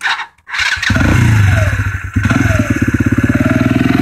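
A Sinnis Apache motorcycle with the choke on cranks and fires into a loud, close idle, then settles into a rapid, throbbing engine beat.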